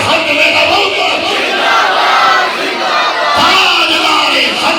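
Large crowd chanting a religious slogan in unison at a gathering, loud and sustained for several seconds, with massed voices swelling and briefly dipping before a fresh surge of the chant.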